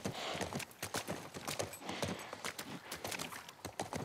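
Horse hooves clip-clopping in The Last of Us Part 1, a brisk, steady run of sharp hoofbeats at moderate distance, with faint background ambience.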